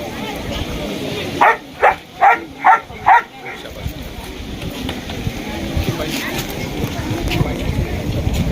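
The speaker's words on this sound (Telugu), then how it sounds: "నార్కోటిక్ డాగ్ అంటారు" A police narcotics detection dog barks five times in a quick, even series, loud and close, amid outdoor background noise with voices around, at a public celebration event in Sircilla.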